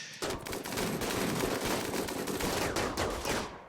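Dense, continuous volleys of gunfire from a Rimworld colony battle against pirates, rapid overlapping shots and bursts filling the whole stretch at steady loudness with no pauses.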